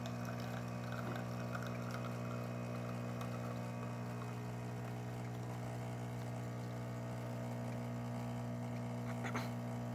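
A DeLonghi Magnifica XS espresso machine, freshly serviced after a full tune-up, pours a test shot with a steady pump hum and a thin trickle of liquid, constant and close throughout.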